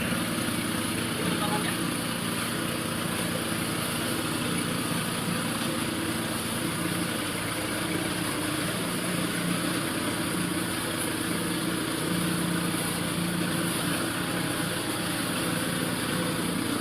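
A snow foam steam machine sprays shampoo foam onto a motorcycle, a steady, loud motor hum with hissing spray running unbroken for about seventeen seconds while someone talks over it.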